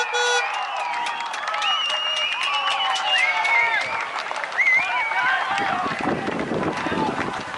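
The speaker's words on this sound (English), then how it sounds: "Just listen to that crowd roar." Spectators at a grand-final cricket match roar and cheer steadily after a diving catch on the boundary, a loud, sustained crowd din with shouts rising above it and some wind buffeting the microphone.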